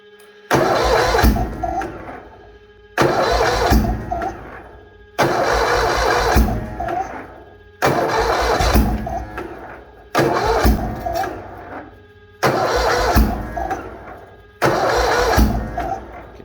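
A Bolens HT-23 garden tractor engine is cold-started outdoors in -40 weather: seven separate loud, close cranking bursts, each about two seconds long, broken by brief silent pauses.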